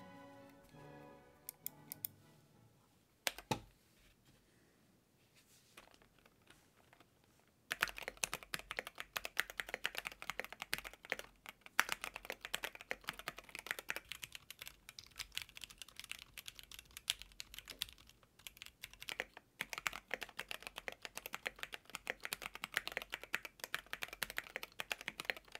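Typing on a cheaply modded mechanical keyboard: sparse, quiet keystrokes at first, then a fast, dense run of loud, crisp clacks continuing steadily to the end, with no talking.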